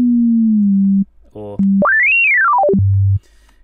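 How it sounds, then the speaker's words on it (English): A pure, harmonic-free sine tone from the oscillator of Ableton's Operator synthesizer holds a steady low pitch, then sweeps smoothly up high and back down before settling low again, with a brief spoken interruption partway through. "So we're on a sine wave, which is just a single frequency, just a pure one frequency with no harmonics."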